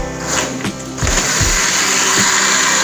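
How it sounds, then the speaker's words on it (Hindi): A kitchen blender whirs steadily as it purées egg halwa ingredients with cardamom seeds, a continuous motor drone starting after a couple of brief bumps and holding loud and close to the end, with no talking. "कवर करके इसको ब्लेंड कर लेंगे।"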